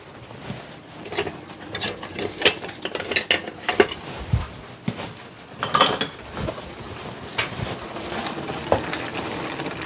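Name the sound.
spoon and utensils clinking as a spoon is fetched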